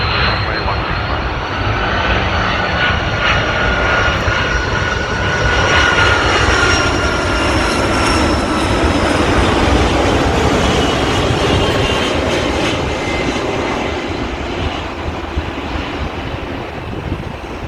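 Qantas Airbus A380 landing on runway 16 right at Sydney Airport, a loud continuous jet engine roar with wind rumble that holds steady throughout, swelling slightly in the middle as the heavy aircraft passes close.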